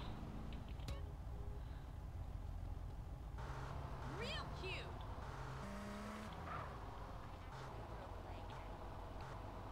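A roofless Super GT sports car in GTA San Andreas drives with a low, steady engine drone and a couple of brief tire squeals, fairly quiet, with a voice talking over it.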